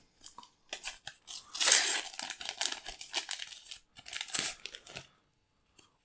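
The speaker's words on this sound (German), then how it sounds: "bleiben noch unsere fünf Stickertüten. Die wollen wir natürlich auch noch aufreißen" Topps UEFA Champions League 2021/22 sticker packets are torn open by hand, a close run of crinkling, ripping foil and paper noises in uneven bursts, then a pause and a faint rustle at the end.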